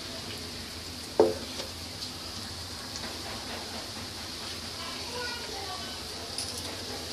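Dahi vada lentil fritters frying in hot oil, giving a steady, close sizzle with a sharp clink near the start and a voice speaking over it.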